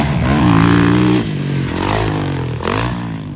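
A two-stroke motocross motorcycle races at a pro motocross pre-season event at Glen Helen, its engine loud and close with a raspy, rising and falling rev and a brief dip between pulls.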